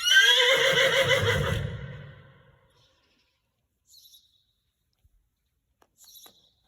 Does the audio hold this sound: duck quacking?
no